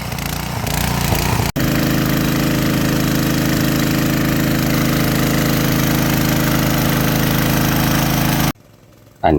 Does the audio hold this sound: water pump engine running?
yes